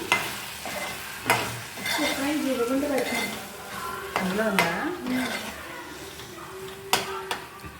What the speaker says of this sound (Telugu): ఇప్పుడు దీన్ని ఇందులో కర్రీలో వేసి బాగా కలిపేయాలి.